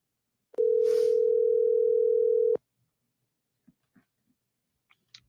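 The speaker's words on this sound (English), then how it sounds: "they're going to call my phone" A steady telephone tone drones for about two seconds during a live talk show call-in, loud and close, then cuts off, followed by a few faint clicks and quiet noises.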